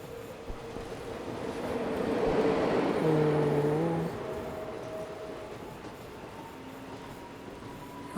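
Train running in the Anant Express railway game, a steady rumbling roll building to a loud peak around the middle then easing, with tonal whine and horn-like notes sliding over the noise.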